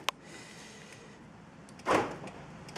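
Door lock actuators on a Toyota Celica fire with one short click, then a louder mechanical clunk about two seconds later, heard close inside the car; the driver-door actuator is broken.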